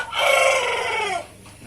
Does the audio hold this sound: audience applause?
no